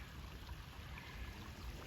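A small stream of water on a hiking trail runs with a steady, soft wash that stays faint and even, alone for about two seconds.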